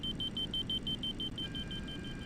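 Cockpit warning beeps in an MD-80 in Microsoft Flight Simulator 2024 pulse rapidly and evenly over a constant engine rumble, with a second tone joining midway, loud and close.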